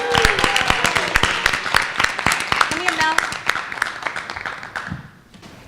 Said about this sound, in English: I'd like to ask you to join me in a round of applause to Melinda Muniz, 28 years.